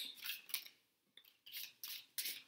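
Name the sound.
shuffling a deck of cards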